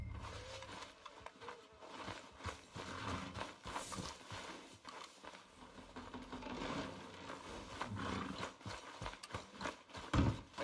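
A horse's hooves clip-clop at a walking pace in the Red Dead Redemption 2 video game, irregular muffled thuds under creaking tack and ambient game sound.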